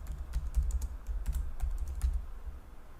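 Computer keyboard typing during setup of an HP ProLiant Gen9 server, entering a password: a series of quick, light key clicks in irregular bursts, close and alone with no talk.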